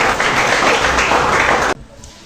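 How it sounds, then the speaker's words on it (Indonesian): Classmates in a classroom lesson give a burst of steady, loud applause that cuts off abruptly after nearly two seconds, leaving quiet room tone. "Oke, tepuk tangan untuk kita dulu."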